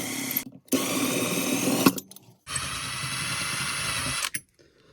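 A Milwaukee power driver fitted with a flathead bit whirs in two long, loud bursts with a short pause between, backing corroded spokes off a 1970 Rupp minibike during a chrome restoration.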